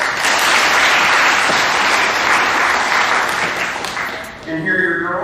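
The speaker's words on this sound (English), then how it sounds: "So give them a round of applause." Loud, sustained applause from a crowd at a middle school awards assembly, fading near the end as a voice begins speaking over it.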